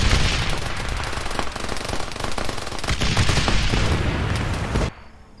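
Sustained rapid gunfire from the X-COM video game rattles loud and continuous for nearly five seconds, then cuts off abruptly to near silence.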